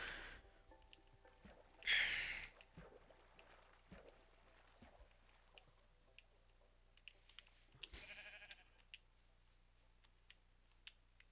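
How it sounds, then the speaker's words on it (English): Sheep bleat in a Minecraft prairie, one loud close bleat standing out briefly among faint ticks and sparse game sounds over a quiet background. "Man, there's so many sheep."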